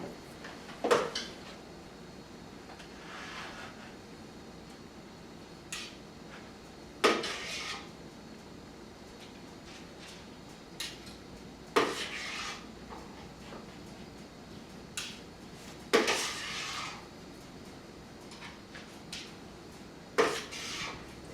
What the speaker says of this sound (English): you're just going to put drops of the dough onto the parchment, about a teaspoon in size